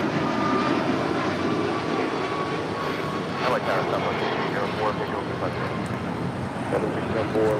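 Airliner taking off from runway 25 right, a steady broad engine roar that holds loud throughout, with radio chatter and talk over it.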